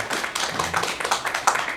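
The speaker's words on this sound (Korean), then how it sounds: "우리 박수로 환영해 주시기 바랍니다" A church congregation claps to welcome guests during a Sunday service, a brief dense round of applause from many hands, close and fairly loud.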